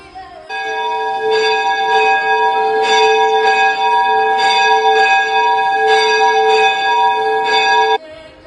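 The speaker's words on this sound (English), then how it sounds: "Church bells could be heard echoing daily for announcing the services are about to begin." Church bells ring loud and close in steady repeated strikes, their rich overtones sustaining for about seven seconds before stopping abruptly.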